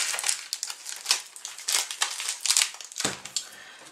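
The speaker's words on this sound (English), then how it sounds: "put your gum paste back into its little airtight bag or container" Gum paste is sealed back into a plastic airtight bag, giving close, quiet crinkling and rustling of plastic in quick irregular bursts over a few seconds.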